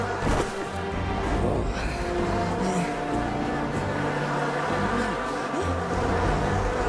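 A dense, steady swarm of bees drones loudly and continuously in the Smite video game, thick and close with faint scattered knocks beneath it.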